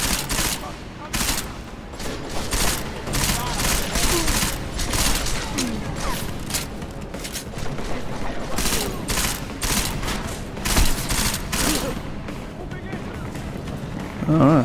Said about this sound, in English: Alright, so this machine pistol's not bad. Unfortunately, it runs out of ammo really quick.